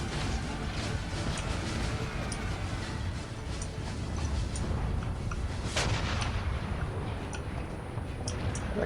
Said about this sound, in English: The cannon firing at my cavalry is a problem.